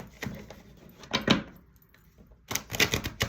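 A Woodland Wardens oracle card deck is shuffled by hand, giving quick papery riffles and taps close up, with a busy flurry at the start, a pause, then another run of clicking shuffles.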